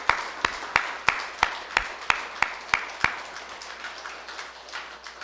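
A church congregation claps in a steady rhythm, about ten crisp beats that grow softer and scattered toward the end, with no voices.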